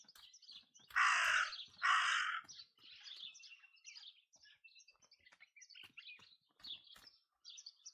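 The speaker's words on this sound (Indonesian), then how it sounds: "gagak yang mengeok" Crows in the video game Martha Is Dead give two loud, harsh caws close by, followed by fainter scattered chirps and calls against a quiet background.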